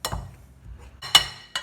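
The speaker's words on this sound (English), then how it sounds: "take your pastry blender, or if you don't have a pastry blender, you can use a fork, and you just kind of work it in there" Metal pastry blender working butter into flour in a bowl for chicken and dumplings: a few sharp clinks against the bowl, spaced irregularly, with quiet scraping between.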